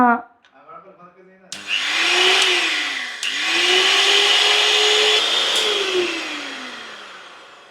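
An electric mixer whirs loudly through homemade cake batter in a few long runs, its motor pitch gliding up and down and pausing briefly between them.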